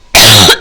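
One sharp, loud cough from a woman with a sore throat, a harsh burst lasting about half a second.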